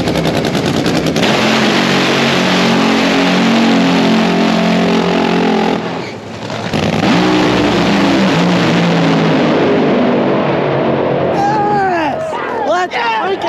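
Nitro funny car launching down a drag strip, a deafening crackling roar that holds at full power, briefly drops, then surges again before fading into a high whine, with voices shouting over it.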